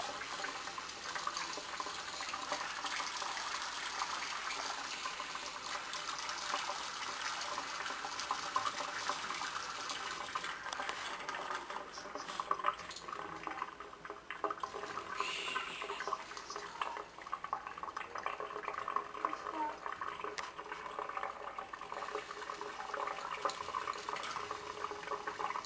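Tap water runs steadily for a puppy's first bath, a continuous broadband splashing rush held at a fairly even level throughout, close by with no voices over it.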